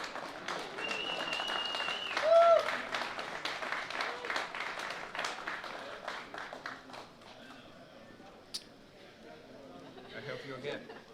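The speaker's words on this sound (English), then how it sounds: "Let's give a round of applause to our happy couple here." Audience applause for a newly engaged couple at a televised $5000 No-Limit Hold'em poker tournament, steady clapping at moderate distance that rises briefly, then fades under a host's talk.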